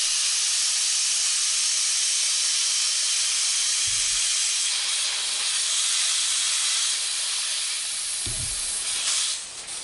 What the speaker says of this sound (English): We're going to release the bleed valve.